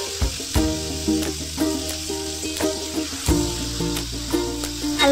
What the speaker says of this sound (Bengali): কড়াইয়ের মধ্যে সাদা তেল দিয়ে দিলাম, দিয়ে পটলগুলোকে হালকা লবণ দিয়ে ভেজে নিব